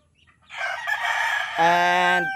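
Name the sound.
roosters crowing, fighting cocks and range chickens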